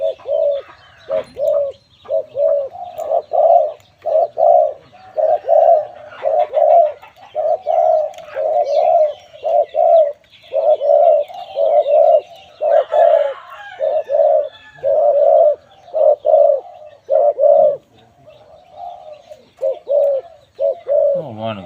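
A decoy dove coos steadily in repeated rhythmic phrases, loud and close, continuing throughout with brief pauses and faint chirps in the background.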